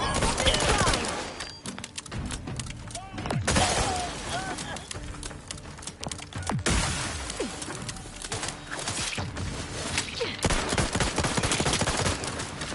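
Gunfire in the video game Outer Worlds 2, loud bursts of automatic shots mixed with impacts and shattering, under intermittent talk throughout.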